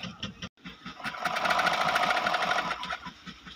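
A flatlock sewing machine runs in a fast, rhythmic stitching burst after a few slower mechanical thumps, close and fairly loud, with no talk over it.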